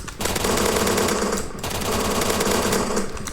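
Sustained rapid automatic gunfire from a Roblox first-person shooter game, two long continuous loud bursts separated by a brief gap, with no talking over it.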